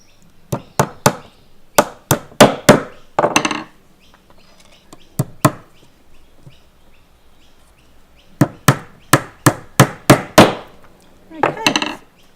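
A hammer drives nails into a wooden beehive brood frame in sharp, close knocks, fired in quick clusters of several strikes separated by pauses, with no one talking.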